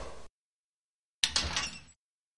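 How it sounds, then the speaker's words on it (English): A closet door opens in Tex Murphy: Under a Killing Moon, a brief scrape and sliding rumble after a moment of silence, fairly close and alone. "Ah, the closet door."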